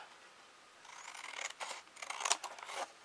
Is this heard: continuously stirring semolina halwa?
no